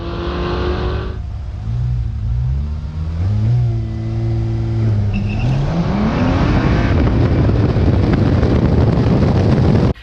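A bone stock, brand-new car on its very first run accelerates hard down a race track, engine climbing through several rising gear pulls with brief shift dips, then a loud sustained roar mixed with wind noise, no talking.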